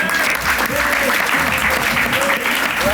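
Steady applause from a crowd, dense and continuous clapping filling the whole moment at a fairly loud level.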